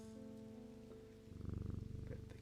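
Cat purring while being petted, a close, steady rhythmic rumble that swells louder partway through, with a faint tonal hum underneath and no voices.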